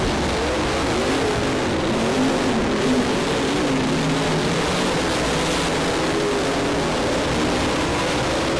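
Race cars roar around a turn at a motor speedway, a dense, steady wall of engine noise with no break, close and loud.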